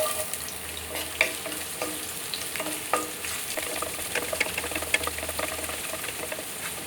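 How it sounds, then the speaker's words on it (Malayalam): Ginger and garlic frying in two spoons of coconut oil in a pan for a jackfruit curry, a steady dense sizzle with crackling pops throughout, close and fairly loud with no talking. "രണ്ട് സ്പൂണ് വെളിച്ചെണ്ണ ഒഴിച്ചു കൊടുത്തിട്ടുണ്ട് അതിലേക്ക് നമ്മൾക്ക് ഇഞ്ചിയും വെളുത്തുള്ളിയും ഇട്ട് കൊടുക്കാം"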